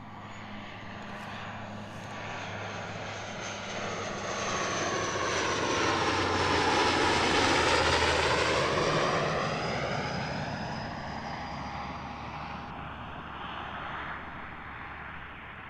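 A Dash 8 turboprop airliner passes at London Gatwick Airport. Its propeller drone swells steadily to a loud peak overhead and then fades away, with a clear falling pitch as it recedes and no talk.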